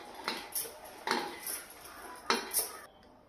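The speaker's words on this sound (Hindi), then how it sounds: "ये हमारी जो लौकी है, तो हम इसको कुकर में डालेंगे" Chopped bottle gourd drops into a pressure cooker in a home kitchen, giving several light metallic clinks and scrapes of pieces hitting the pot, close and fairly quiet.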